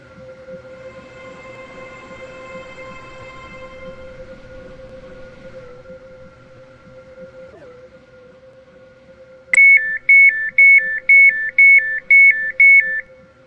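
A three-coach train in the Roblox game Stepford County Railway hums steadily at a station, then a loud rhythmic chime or alert pattern repeats about seven times near the end, with no talking.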